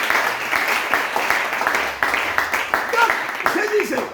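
A church congregation claps rhythmically in praise of the Lord, steady and fairly close, with voices calling out over the clapping.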